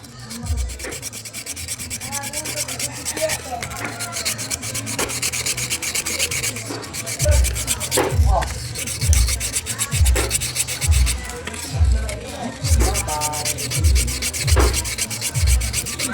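A metal file scraping an electric fan shaft beside its bushing, in steady rhythmic back-and-forth strokes, close and fairly loud with no talking.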